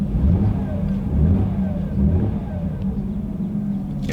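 A Mercedes-Benz W204 C350 with a resonator-delete X-pipe exhaust, heard from inside with windows up, revs in a few low rumbling swells that rise and fall over a steady idle.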